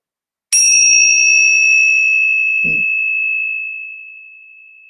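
A single clear bell strike rings out loud and close, its bright tone sustaining for several seconds before slowly fading, with a brief faint low bump partway through.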